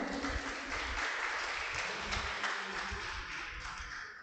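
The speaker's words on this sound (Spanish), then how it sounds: "También llamamos, un aplauso, por favor." Sustained applause from an audience welcoming panelists at the opening of a business roundtable and economic forum in Beni, steady dense clapping throughout that fades slightly toward the end.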